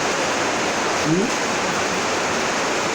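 Water poured in a small quantity onto cassava while making Nigerian Ayan Ekpang gives a steady, even rushing hiss that lasts the whole moment without a break.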